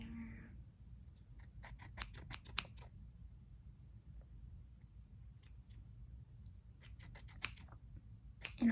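Scissors snip at hair in a pretend haircut, quick crisp clicks close to the ear coming in irregular bursts and clusters over a soft, quiet background, with no speech.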